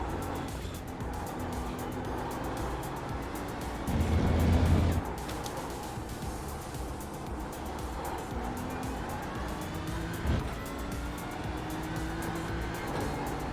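A GT3 race car in iRacing at Sonoma runs at full throttle, a steady high-pitched engine drone with rising gear pulls and brief louder bursts around shifts.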